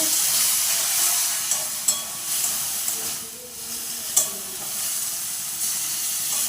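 Water hits a hot pan of onion and poppy seed and sizzles in a steady, loud hiss, with a few soft clinks of stirring.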